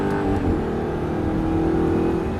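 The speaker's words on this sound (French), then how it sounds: "vas-y, tu accélères complètement, tu pousses la troisième" Audi R8 accelerating flat out on a race track, a loud sustained engine roar climbing through the gear, close and continuous with no talk.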